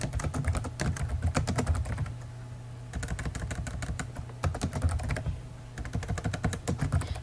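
Fingers typing on a computer keyboard: quick, close clusters of light plastic key clicks in bursts, with brief pauses between runs of keystrokes.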